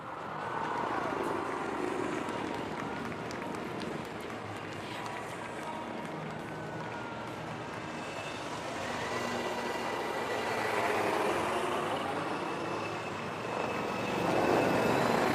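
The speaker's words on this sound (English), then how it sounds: "So this was Sarang Helicopter Display Team." Indian Air Force Sarang helicopter display team flying over Marina Beach in Chennai during an Air Force Day air show, a steady broad rotor and engine roar that swells slightly toward the end, with crowd noise beneath.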